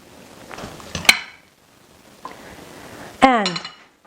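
Mango black bean salsa tipped into a serving dish, with a soft scrape followed by a couple of sharp clinks of glass or ceramic, the sounds close and fairly quiet.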